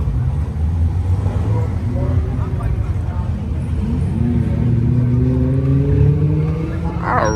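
A Mercedes-AMG C63 engine rumbles and revs at a car meet, loud and close, its pitch sweeping up and down in several rising pulls beneath nearby talking.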